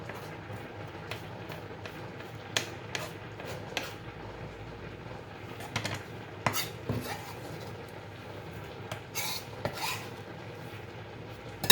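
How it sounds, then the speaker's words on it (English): A knife chops salsa ingredients finely on a cutting board, irregular sharp taps and scrapes spaced apart, close but fairly quiet, with faint kitchen clatter between strikes. "we're just gonna cut it up finely"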